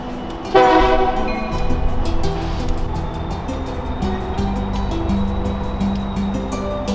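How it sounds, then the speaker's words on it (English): Union Pacific SD70M and GP38-2 locomotives rumble past at close range in Fort Worth, Texas, a loud horn blast sounding early and sustained over a steady low engine drone and rail noise for the rest. "we saw this cool little locomotive move with UP 4989 an SD70M, UP 571 a GP38-2, and UP 5058, which was a SD70M as well"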